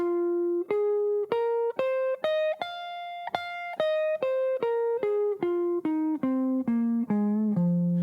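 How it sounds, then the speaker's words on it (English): A clean electric guitar picks single notes up a minor pentatonic scale and back down, each note evenly spaced and ringing briefly. "You can also use a minor pentatonic scale,"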